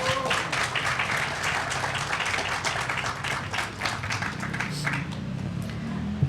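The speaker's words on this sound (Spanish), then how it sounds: "Le damos un aplauso, por favor," An audience applauds a speaker at a talk, with steady, dense clapping that carries on evenly for the whole six seconds.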